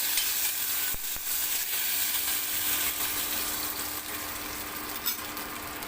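Continuous sizzling of tomatoes frying in oil, close up, with a couple of brief utensil knocks near the start.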